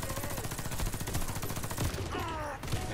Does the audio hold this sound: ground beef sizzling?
no